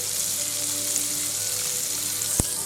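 Food fries in a pan on the stove, giving a steady, even sizzle with a faint hum beneath and one brief knock near the end, with no one talking.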